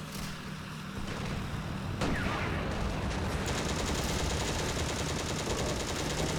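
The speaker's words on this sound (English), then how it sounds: "I think that's an AA gun." An anti-aircraft gun fires in the tank game Steel Fury: a rapid, steady string of shots under a constant engine and battlefield rumble, with a sharp bang early on.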